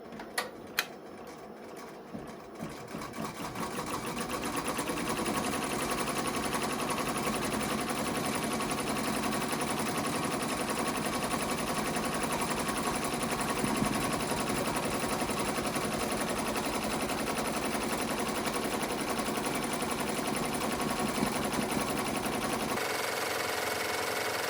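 An embroidery machine stitching out a design on a mug rug, a steady close mechanical whir with a fast needle chatter that runs continuously for most of the stretch after a brief start-up.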